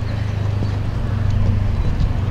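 Horse hoofbeats during a show jumping round at an eventing grand prix, a big, steady clip-clop rhythm over a low rumbling ground, with faint commentary in the background.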